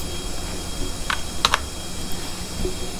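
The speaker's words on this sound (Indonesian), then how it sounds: "Ini kita tinggal input OTP nya 403409." An OTP code entered on a computer keyboard: a short cluster of three or four crisp key taps in the middle, over a steady background hiss, with no speech.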